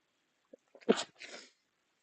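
A single sharp human sneeze with a short intake before it, alone in otherwise quiet surroundings.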